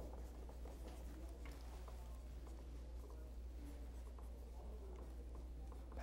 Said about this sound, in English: Pencils moving furiously on paper.